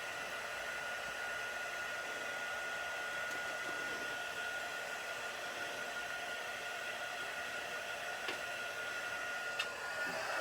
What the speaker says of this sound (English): once you have your heat tool on for a little bit, your embossing powder will melt really, really fast